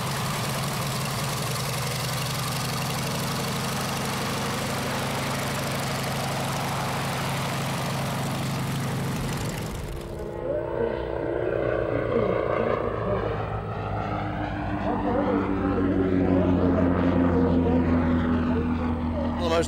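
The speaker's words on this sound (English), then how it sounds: "The most interesting parts of this aeroplane is the engine, which was probably the last radial engine designed in the West after World War II." The radial engine of a Percival Provost trainer aircraft runs with a loud, rough, steady drone, then shifts to a lower, throbbing idle with a whirring propeller beat for the second half.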